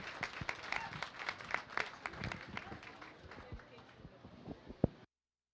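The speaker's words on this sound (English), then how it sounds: "give them a big round of applause as they exit the arena" A crowd gives a steady round of applause as young exhibitors leave the arena at a county fair beef show. The clapping is fairly faint and distant, dense at first and thinning out toward the end, with a few sharper claps near the close.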